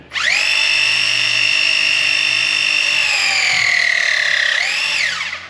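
A Novopress press tool clamps a press-fit pipe fitting with a loud, steady motor whine that drops slowly in pitch as the jaws tighten, then shifts abruptly near the end before winding down, heard close up.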